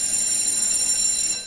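Quiz buzzers are tested at a school Bible quiz final in Gbarpolu County, giving one continuous bright electronic buzz that holds steady for over a second, loud and close.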